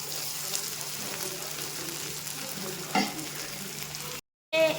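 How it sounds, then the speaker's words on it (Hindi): Tomatoes fry in hot tempered oil with a steady, close sizzle and occasional stirring scrapes, a brief louder clatter near the end followed by a short gap of silence; nobody talks. "अब इसमें हमने डाल दिया है टमाटर।"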